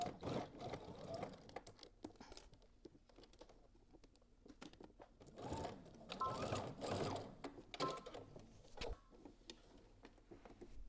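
A sewing machine stitches straight across the top of a placket in rapid ticking bursts that start and stop, fairly quiet and close, with brief pauses between runs.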